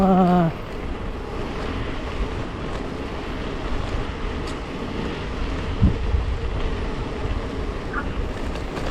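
Waterfall in Punggol Park at night, a steady broad rush of falling water heard from nearby with some wind buffeting, a brief tonal sound at the start and no speech.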